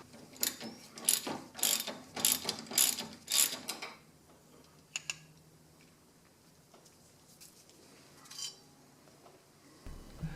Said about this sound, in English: use a ratchet inside the wheel well to take that bolt out